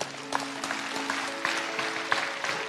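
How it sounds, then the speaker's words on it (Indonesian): A church congregation applauding for a few seconds, a soft, fairly distant scatter of claps over a steady low hum. "Kasih tepuk tangan untuk Tuhan."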